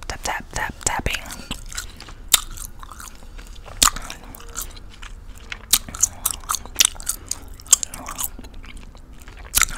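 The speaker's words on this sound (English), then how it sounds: "just gonna do a bit of gum chewing" Gum chewing close to the mic, with wet smacking bites and small crunches repeating throughout in an uneven rhythm, mixed with soft whispery mouth sounds.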